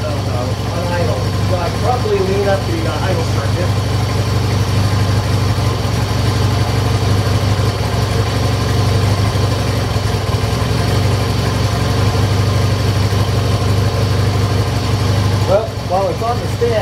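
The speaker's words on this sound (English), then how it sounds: "Little rich on idle. So I probably lean up the idle circuit." A 1969 Honda CL160 motorcycle engine idling a little rich, with a steady, loud, close putter that runs throughout and a voice heard briefly over it near the start and again near the end.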